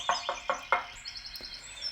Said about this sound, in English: I gathered all my strength and knocked on the infirmary door.